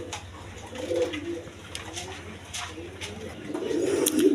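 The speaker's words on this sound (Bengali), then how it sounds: "দর্শক এখানে দেখেন এক পেয়ার চুল্লি কবুতর বা চুল্লি কবুতর বলে" A pair of Chulli pigeons for sale coo close by in soft, repeated low calls against faint background noise, the cooing swelling louder toward the end.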